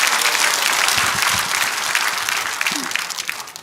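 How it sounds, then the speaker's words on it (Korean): A crowd at a rally in Gwanghwamun, Seoul, claps loudly and steadily, the applause fading out toward the end, with a voice briefly heard near the close. "우리 스스로 박수 한번 보냅시다."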